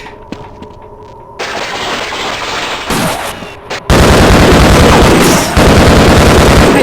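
Gunfire in Half-Life in an alien-infested area, with bursts of shooting that grow louder and denser, ending in sustained heavy fire and loud blasts filling the space.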